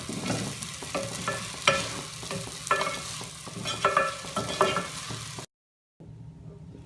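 Sabudana khichdi with coriander and pomegranate seeds being stirred and mixed in a pan: repeated scraping and clinking spoon strokes over a soft sizzle, close and fairly loud, ending in a short silence and a faint hum.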